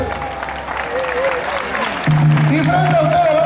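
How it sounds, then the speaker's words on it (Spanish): Applause from an audience at an evening celebration at the Panama Canal Visitor Center, a moderate clatter of clapping mixed with crowd noise, joined near the end by tonal music or voices rising over it. "un fuerte aplauso a todo el staff del Centro de Visitantes."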